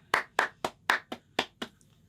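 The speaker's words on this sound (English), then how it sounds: "Round of applause for that" Seven sharp hand claps in a quick, slightly uneven rhythm, close and clear, for a podcast episode milestone, with no voices over them.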